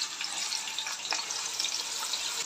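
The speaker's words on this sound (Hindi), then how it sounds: "घी गर्म हो चुका है, अब हम इसमें प्याज डालेंगे।" Onions hit hot ghee in a wok and set off a steady, hissing sizzle. The broad, close frying noise carries on evenly throughout, with no talk.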